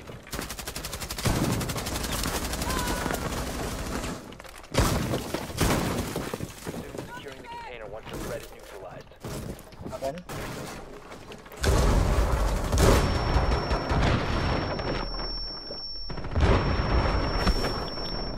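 Gunfire in Rainbow Six Siege, bursts of shots coming from several directions during a round, broken up by loud sharp cracks, with players talking over the action.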